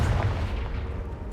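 Confringo fire spell blast from Hogwarts Legacy, a close, loud booming burst with a heavy low rumble, sustained over about a second with no speech.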